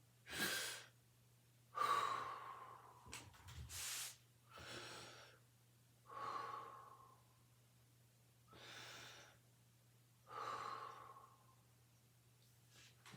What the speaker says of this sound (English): Then we do mouth breathing.